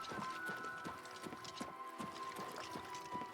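Horse hooves clop at a steady walking rhythm in the video game Oblivion Remastered, each hoofbeat distinct and evenly spaced over a faint tonal game background, with no talking.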